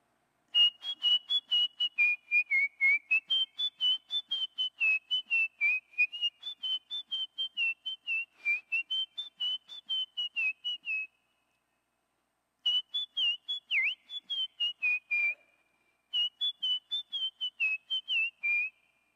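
A man whistles an imitation of a forest bird's call, a rapid series of short clear whistled notes in rising and falling phrases, repeated in three bursts separated by brief pauses, close and alone in silence.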